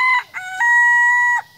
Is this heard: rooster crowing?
yes